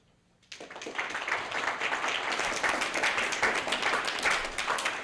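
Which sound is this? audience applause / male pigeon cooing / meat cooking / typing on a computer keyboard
audience applause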